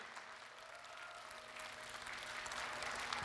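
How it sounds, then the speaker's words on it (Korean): Audience applause welcoming a guest onto the stage at a Korean talk show event, steady clapping that gradually grows louder through the clip, with no speech over it. "큰 박수로 맞아주십시오"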